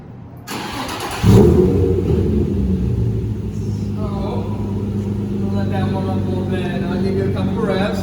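A Nissan 350Z engine cranks and catches, then settles into a loud, steady, close rumble with a rev rising over it, and people talk faintly beside the running car.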